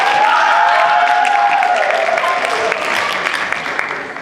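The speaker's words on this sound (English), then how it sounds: "We give Cockerell Middle School a big round of applause for a great job" An audience gives a round of applause for Cockerell Middle School after a performance, loud sustained clapping with a faint tonal sound drifting underneath, slowly tapering toward the end.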